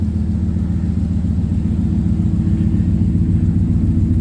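A truck engine with a newly replaced transmission and a developing exhaust leak idles steadily nearby, giving a continuous low, throbbing rumble with an even pulse and no talking.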